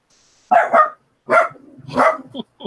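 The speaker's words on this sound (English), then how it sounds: "I can hear my dog barking about it now." A dog indoors barks at someone coming in the front door, three or four sharp nearby barks in quick bursts, ending with a short yip.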